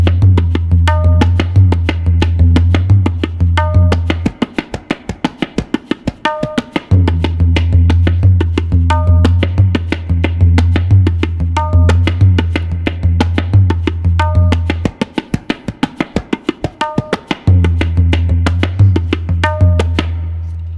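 Tabla piece struck fast and loud, with heavy booming bass drum strokes under rapid crisp treble drum hits in a driving repeating cycle, brief pauses where the bass drops out, no talking.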